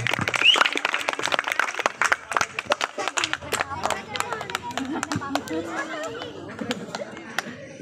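A crowd at a Vinayaka Chavithi festival mimicry show claps in a sharp burst of scattered hand claps that thins out, giving way to a voice talking over the fading applause.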